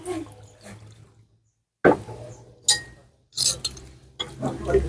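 Water poured into a container to rinse it out, a few short splashing pours with clinks of glass between pauses, close by, with faint talk in the background.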